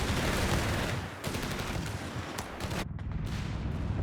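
Dense, continuous machine gun and rifle fire with explosions on a Company of Heroes 3 battlefield in a 2v2 match, loud and sustained, with a brief dip in the middle.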